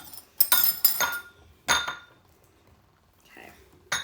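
A butter knife clinks and scrapes against a pot while stirring a tablespoon of butter into spring risotto on a hot plate, in a few close bursts of metallic clatter separated by short pauses.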